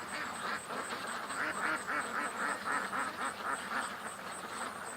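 Ducks quacking out on the water, a steady series of rhythmic nasal quacks repeating through the whole stretch at moderate distance, fairly loud and with no talk over them.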